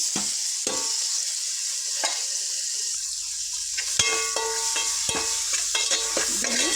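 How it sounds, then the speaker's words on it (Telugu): Two medium tomatoes dropped into a pan with frying garlic paste for a small-fish curry, a close steady sizzle broken by spatula knocks and stirring scrapes, no voices. "పొయ్యేంత వరకు చక్కగా ఫ్రై చేసుకోవాలి ఈ విధంగా ఇందులోనే రెండు మీడియం సైజు టమాటాలు వేసుకుందాం"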